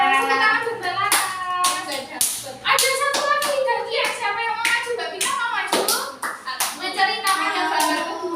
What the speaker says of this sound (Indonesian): tepuk tangan buat Mbak Laras.